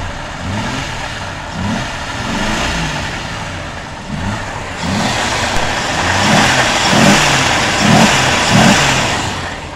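A Jeep Grand Cherokee Trackhawk V8 runs nearby, its engine pulsing in repeated revs over a steady idle rumble that swells louder toward the end, with no voices.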